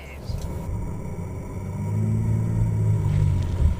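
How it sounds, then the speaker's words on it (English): A 2014 Jeep Grand Cherokee EcoDiesel climbing a steep rock face, its engine a low steady rumble that swells and grows louder as it pulls up the grade. "With effortless torque on tap, the Jeep scampers up this grade with little more than a giggle"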